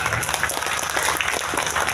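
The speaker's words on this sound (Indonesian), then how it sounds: "Tepuk tangan makin banyak" A crowd at a village religious gathering claps in sustained, dense applause that keeps an even level throughout, with scattered sharper claps standing out near the front.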